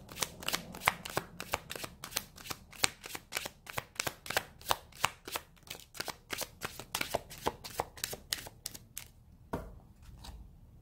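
A deck of suggestion cards being shuffled by hand, a fast even run of crisp riffling flutters for about nine seconds, then a couple of slower card taps, close up and with no voices.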